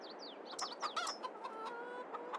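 Chickens in a Farming Simulator 22 coop cluck and chirp in a busy, overlapping run of short calls. The sounds are moderately close and carry over a soft, constant background hum.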